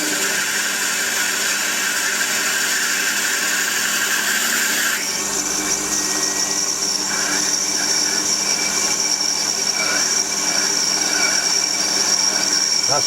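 A Warco WM180 lathe drills an 8mm hole 40mm deep, giving a steady high-pitched machine whine and cutting hum that shifts in tone partway through as the bit feeds in, continuous and close with no talking.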